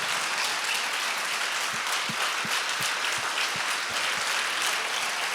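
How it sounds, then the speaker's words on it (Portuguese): A church congregation bursts into sustained applause, a dense, steady wash of many hands clapping at even loudness throughout, with no voices standing out. "bater uma salva de palmas mais alto que você puder a Jesus"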